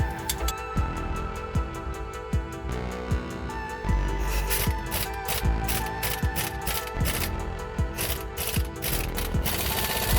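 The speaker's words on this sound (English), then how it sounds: "Gonna finish it up with the impact gun." An impact gun tightens bolts on a Jeep in a series of short, rapid rattling bursts, close and repeated roughly every second, with faster hammering in the second half.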